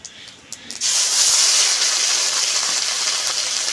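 Dried chillies, bay leaf and cumin hit hot oil with a sudden loud hiss that settles into a steady, close sizzle while cooking chal kumro (ash gourd).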